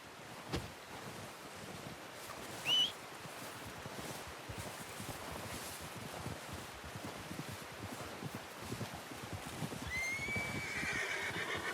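A horse in Red Dead Redemption 2 whinnies briefly, then again near the end, over a steady wind-like rush and soft hoof clops, fairly quiet.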